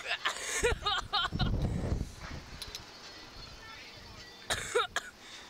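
A person coughs a few times amid lively talking and laughter during a ride, the coughs short and harsh, close to the listener.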